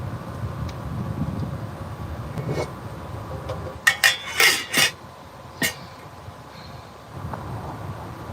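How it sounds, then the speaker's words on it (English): Grits are stirred in a pot with a spoon: a soft background scrape, then a cluster of bright metallic clanks and taps against the pot, close and moderately loud. "I'm just stirring my grits"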